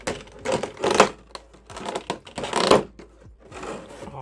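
Tape being peeled off the packaging of a Super Sonico Libra Ver. 1/7 scale figure: a run of close, crackly ripping bursts that come in about three rough surges, with no voices.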